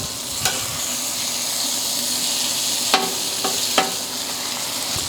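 Bacon sizzles steadily on a Napoleon griddle top, a dense continuous frying hiss with a few sharp spatula clicks and scrapes near the end, close and fairly loud.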